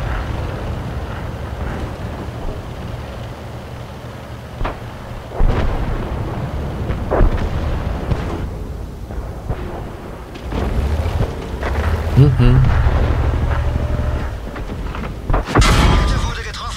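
A Crusader tank fires shells in a video game, with heavy booms and rumbling blasts over a constant battlefield roar while someone talks intermittently.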